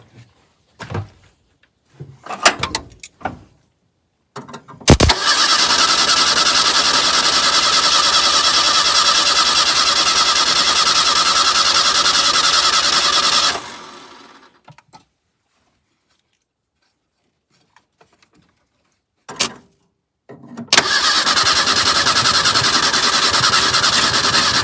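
A square-body Ford Ranger's engine cranks over and over without catching after a splash of 2-cycle gas, a steady loud whirring grind lasting several seconds, then silence, then another long cranking run, with some clunks and knocks between tries.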